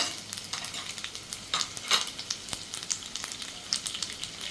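White sesame seeds, chopped garlic and chili are stirred in a pan with a spoon: soft, irregular scraping taps over a quiet, continuous sizzle of frying, fairly faint and without voices.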